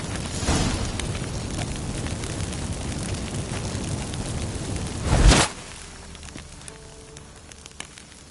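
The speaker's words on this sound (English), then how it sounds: "Get ready for some magic fireworks" Magic incense fireworks in The Witcher 3 on PS5 go off with a soft crackle among ambient noise, then a sharp burst about five seconds in, leaving a quieter background.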